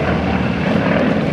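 Aerostars aerobatic team propeller aircraft flying a line-abreast loop at an airshow, a loud, steady droning engine roar with propeller buzz filling the whole moment, close and without voices.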